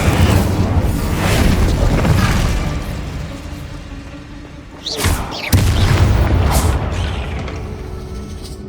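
Incendio fire spell cast in the video game Hogwarts Legacy: a loud whooshing boom of flame bursting out, rumbling and fading, then a second burst swelling up partway through.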